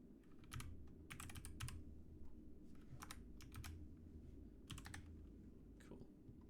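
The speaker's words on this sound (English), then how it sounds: "I have this nice clickety-clackety keyboard" Someone types in quick, uneven bursts on a clicky mechanical computer keyboard during a live hacking session. The crisp, fairly faint clacks rise over a low, steady background hum.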